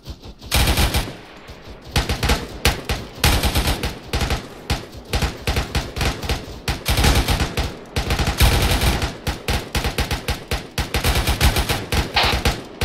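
M240 machine guns in Arma 3 fire long sustained bursts, loud rapid automatic fire rattling almost continuously with brief pauses between strings.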